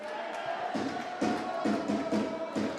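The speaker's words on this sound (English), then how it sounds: "this fantastic crowd here takes up the singing of Land of My Fathers" A large rugby league crowd at a 2012 Challenge Cup match between North Wales Crusaders and Toulouse Olympique XIII singing Land of My Fathers together, a steady massed chorus with a held tone and swelling pulses of voices.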